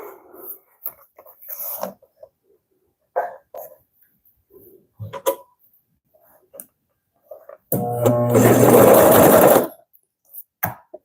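A Consew CP206RL portable walking foot sewing machine runs one steady, loud stitching burst of about two seconds, preceded by scattered faint handling clicks and soft movement. The machine tends to jam after reversing.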